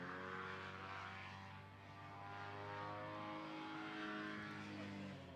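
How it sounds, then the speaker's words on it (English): A paramotor engine runs at full throttle during a slalom competition, a droning propeller roar that swells and shifts in pitch as it passes at moderate distance, with no voices. "I can hear full throttle."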